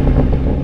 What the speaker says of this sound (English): So I'm going to rev this up.